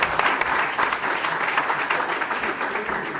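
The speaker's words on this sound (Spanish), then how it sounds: "Yo creo que se merece un aplauso" Audience at a public-sector conference session gives a burst of close, dense applause that stays fairly even for a few seconds, with a little speech faintly underneath.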